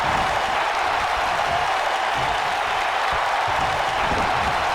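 A virtual Oklahoma City wrestling crowd in WWE 2K19 cheers and applauds in a dense, steady roar throughout, with no clear voices above it.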